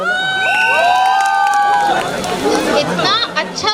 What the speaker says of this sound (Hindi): इतना अच्छा परफॉर्मेंस और हूटिंग इतना जल्दी बंद हो गया।